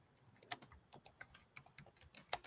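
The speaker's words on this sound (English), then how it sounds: "I know Reg is typing that all up" Rapid, uneven keystrokes clack on a computer keyboard, close and crisp, with short pauses between bursts of clicks and no one speaking.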